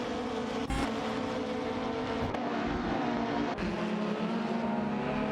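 Ford Mondeo race cars, 1993 and 1998 models, battle wheel to wheel in a video game race, their engines a close, continuous drone with rising and falling revs and a few sharp bursts as cars pass.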